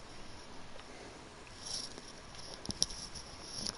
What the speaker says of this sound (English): That rain doesn't look too bad.